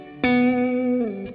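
An electric guitar played through a reverb effect in the Guitarix amp software rings out one sustained note. It then shifts slightly to a new pitch, and the tone stays smooth and washed with reverb, with no voices.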